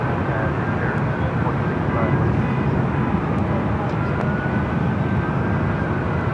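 Airbus A321 airliner flying and banking near LAX, a steady broad engine and cabin roar holding constant throughout, close and loud with no clear voices over it.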